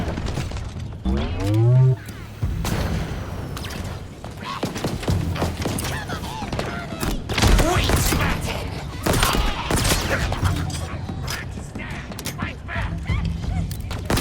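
Rapid gunfire and explosive impacts in the Halo Infinite video game, dense overlapping bursts and thuds over a loud battle soundscape, with clanking mechanisms and shattering bits mixed in.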